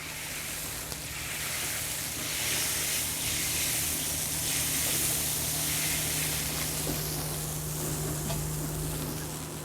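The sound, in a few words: soup simmering after water added to fried tomatoes and pickled vegetables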